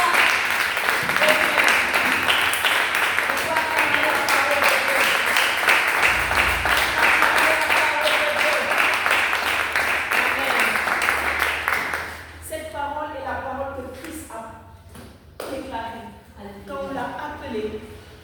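A church congregation applauds in a long, loud sustained burst of clapping that fades after about twelve seconds, giving way to scattered voices and a few remaining claps.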